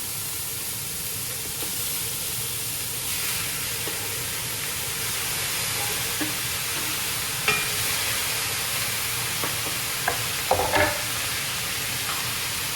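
Pork dropped into a pan with translucent onions, poblano and garlic, sizzling and hissing steadily and close, with a few sharper crackles and stirring clatters toward the end.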